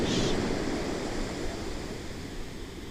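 Ocean surf at sunset, a steady broadband wash of waves, fairly loud and continuous with a slight swell at the start, heard alone without voices.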